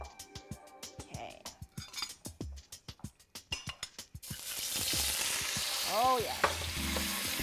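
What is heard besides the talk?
beef flash frying in a hot wok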